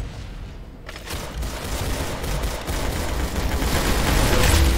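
Rapid gunfire from a Roblox Arsenal match crackles in dense, overlapping bursts, growing louder and more continuous over a few seconds with booming low thumps, close and busy with no talk.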